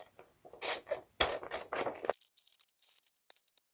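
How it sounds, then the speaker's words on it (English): Scissors trim excess material from a nautical seashell craft in a few quick rustling cuts that end abruptly and give way to near silence. "take your scissors and trim off all of the excess"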